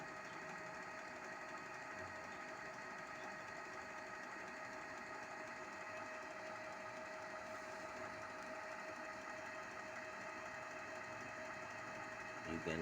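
A Canon G2010/G3010 inkjet printer runs an ink flush cycle, giving a steady, continuous mechanical whir and hum that holds level throughout with no pauses.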